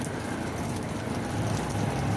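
Heavy overnight rain pours down in a dense, steady hiss and patter, loud and continuous with no pauses.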